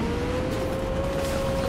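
A car driving in Fortnite, with a steady engine drone holding a constant pitch and a broad road rumble, loud and continuous with no talk over it.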